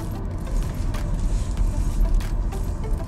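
A Nissan Leaf electric car pulls away uphill in e-pedal mode, a low steady road and motor rumble with faint rattles inside the cabin.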